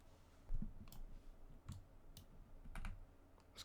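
Clicks from a computer keyboard as a shortcut is typed to copy and paste during beat making, a few sharp, fairly quiet clicks spaced irregularly over low background hum.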